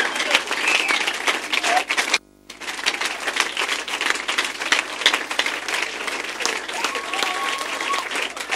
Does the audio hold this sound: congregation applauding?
yes